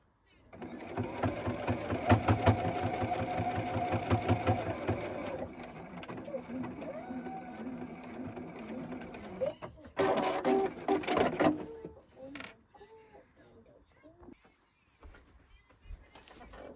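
A sewing machine stitches across the corners of a fabric makeup bag, running in a steady rapid whir for about five seconds, then pausing and starting again in shorter, stop-start bursts, close and fairly loud.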